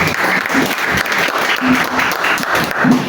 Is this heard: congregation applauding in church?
yes